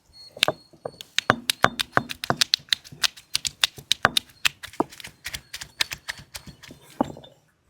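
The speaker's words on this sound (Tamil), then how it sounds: "சுண்டைக்காயை அம்மியில நசுக்கி உள்ள இருக்க விதையை எடுத்துடலாம்" Turkey berries are crushed on an ammi grinding stone, giving a rapid series of sharp stone-on-stone knocks and cracks, roughly two dozen hits in an uneven rhythm, close and clear with no other sound.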